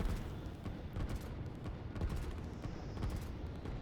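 Dense, continuous rumble of explosions and bursts as bombers strike a town in the strategy video game Line War, with repeated booms layered into a loud, sustained roar throughout.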